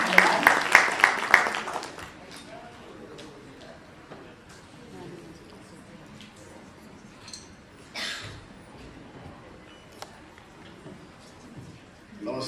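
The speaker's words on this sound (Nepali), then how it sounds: "जोरदार तालीबाट माननीय मन्त्रीज्यूलाई स्वागत पनि गरिदिनु होला" Audience applause welcoming a minister at a policy dialogue on labour migration, gender and climate change, a short loud burst of clapping at the start that fades within two seconds, followed by quiet room noise and scattered small knocks.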